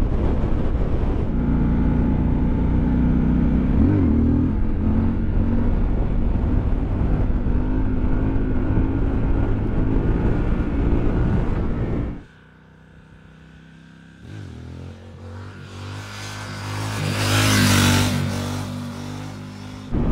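A Triumph Scrambler 1200XE motorcycle engine drones steadily on the road, then drops away briefly before rising again with wind rush, heard up close without talk.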